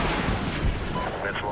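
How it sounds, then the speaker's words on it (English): Missile launched from a helicopter in Medal of Honor: Gunfighters, heard as a loud, continuous rushing roar and blast that fills the short moment, with a voice talking over it. "Missile off the rail."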